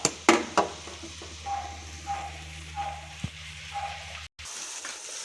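Food frying in a large pan gives a steady, soft sizzle with a few sharp crackles and pops near the start. A faint periodic beeping or tone repeats several times in the background.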